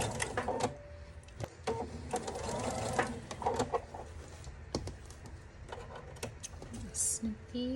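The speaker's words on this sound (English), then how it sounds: "And I sew along." Home sewing machine stitching fabric held with gentle pressure, a rapid mechanical clatter in uneven bursts with short pauses, close and fairly quiet.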